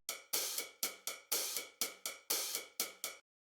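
A hi-hat loop from the PML Deep Premium Volume 6 sample pack plays a crisp, bright pattern of open and closed hats in a steady syncopated groove, each hit decaying quickly, clean and isolated with no voice.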